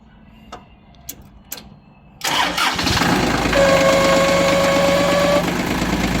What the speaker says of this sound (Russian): Давайте заведем тракторок.